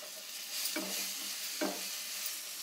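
Green chilli and boiled peas frying in a pan for poha, with a steady soft sizzle and two brief stirring scrapes near the middle and later; no voices.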